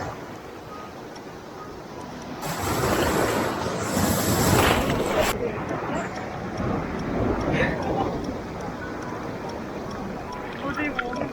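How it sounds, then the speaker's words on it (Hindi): Surf washing in over a steady wind-buffeted rumble at Varkala Beach, India, with a louder wave surge building mid-clip and fading back to a constant wash. "ये लहर आ रही है, आ रही है, आ रही है, आ रही है।"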